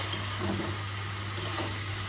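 Steady frying sizzle of bitter gourd in a pan with a constant low hum beneath it, with no voices.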